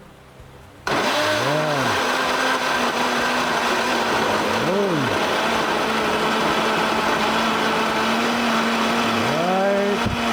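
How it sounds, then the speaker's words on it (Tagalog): A blender motor whirs steadily at close range after a sudden start, its pitch rising and falling in a few swells, with brief spoken words over it. "Pandaran na natin ang ating blender."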